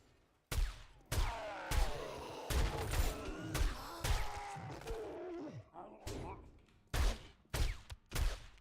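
Gunfire in 7 Days to Die: a series of sharp, loud shots spaced irregularly across the stretch, each a hard crack with a short decay, and no talking between them.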